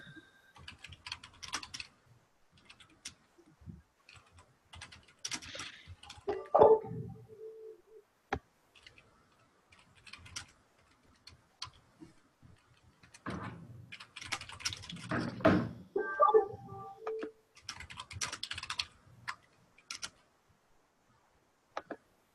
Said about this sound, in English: Let me just finish typing this up.